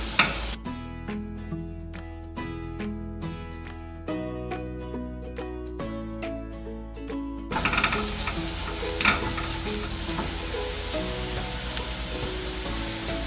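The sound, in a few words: sautéing onion masala with cumin powder for malai kofta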